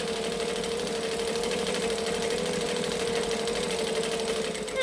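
A sewing machine stitches vinyl at a fast, even clatter that runs nonstop and loud, its motor whirring steadily under the rapid needle beat.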